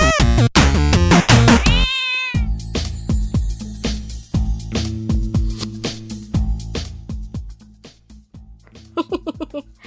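Kittens meow in a loud, close, rapid run of high, drawn-out cries at first, then a busy stretch of shorter, fainter sounds and a final cluster of squeaky mews.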